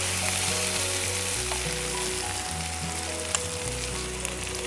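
Chicken manchurian and onions fry in a hot pan with a steady, close sizzle that holds throughout, broken by a few faint scrapes and knocks of stirring; no one speaks.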